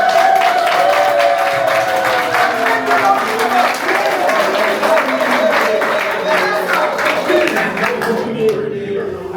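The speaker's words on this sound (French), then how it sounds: "Applaudissons pour eux quand même." Wedding guests applaud the newly married couple with dense, sustained clapping that fills the whole stretch, with voices talking over it and the clapping thinning slightly toward the end.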